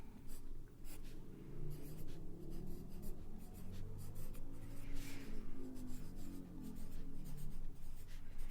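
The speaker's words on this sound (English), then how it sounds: "I'm going to write here towels measurements." Pen or pencil writing on a white paper page, a close, continuous scratchy scribble with short strokes and pauses, soft and intimate with no voice over it.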